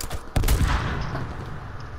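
Gunfire in the battle royale game H1Z1, a loud burst of shots near the start followed by a dense rumbling tail of further firing.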